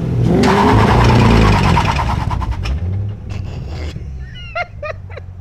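A Cadillac CTS-V doing a burnout with wheel hop: a loud engine roar and screeching tires up close, then choppy, hopping bursts as the noise fades, followed by a few brief squeaks.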